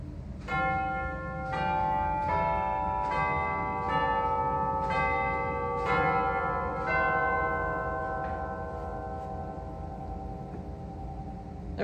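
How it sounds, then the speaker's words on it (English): Tower chimes on an Estey organ ring out in a slow sequence of about eight clear bell strokes, each tone lingering and overlapping the next in a resonant wash. "There is a set of tower chimes."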